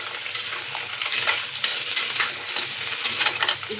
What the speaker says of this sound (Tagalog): igisa ko lang po yan.